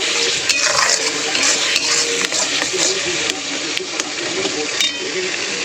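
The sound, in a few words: stirring and frying masala with ginger, garlic and onion in a pan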